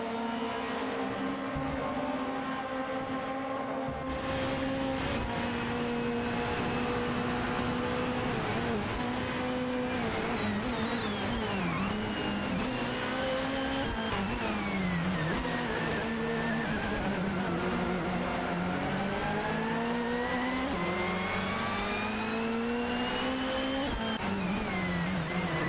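Race cars in a racing video game drone on steadily, their layered engine whines rising and falling in pitch as they jostle for position, loud and continuous with no voices.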